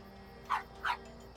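A dog in the game Wildstar gives two short barks, evenly spaced about a third of a second apart over a low steady hum, fairly quiet and near.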